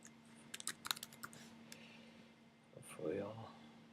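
Someone types a password on a computer keyboard, a quick run of faint key clicks followed by a short voice, recorded over a low electrical hum.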